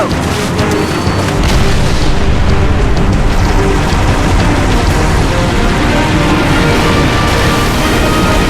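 Pylon detonation in a Halo Reach cinematic, a massive deep boom that swells after a brief lead-in and rumbles loudly and steadily for several seconds.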